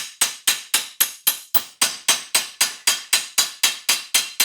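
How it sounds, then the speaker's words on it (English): Steady hammer blows planish a metal sword hilt, about fifteen sharp ringing strikes in an even, brisk rhythm, close and loud with no voices. "Let me finish planishing this guy a little more"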